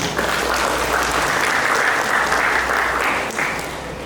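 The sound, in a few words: audience applause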